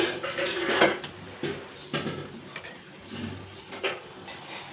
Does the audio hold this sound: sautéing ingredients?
yes